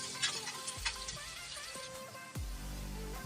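Freshly chopped onions fry in a pan until brown, giving a soft, continuous sizzle with scattered crackles, pops and a few dull knocks from stirring.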